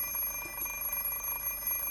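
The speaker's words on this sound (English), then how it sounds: "I set the alarm 30 minutes early on purpose, so I should be able to sleep another half hour." An alarm clock in the Fate/Stay Night video game rings steadily with a thin high electronic tone, held without breaks over a low hum and heard alone with no talking.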